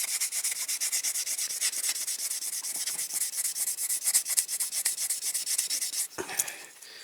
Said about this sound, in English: then I use the wet and dry sandpaper